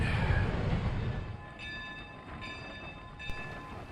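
Locomotive number 11 on the Cass Scenic Railroad rumbles along at a distance, steady and low, with faint metallic squeals and clanks rising over the rolling noise.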